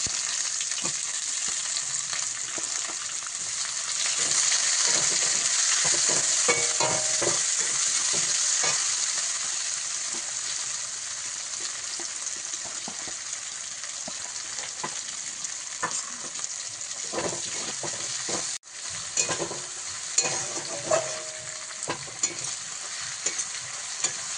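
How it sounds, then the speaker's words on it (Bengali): Onions fry in hot oil with whole garam masala, chilli, cumin and bay leaf, giving a steady close sizzle with scraping stirring sounds throughout, no talking. "পেঁয়াজটাকে এইভাবে লাল লাল করে ভেজে নিয়ে"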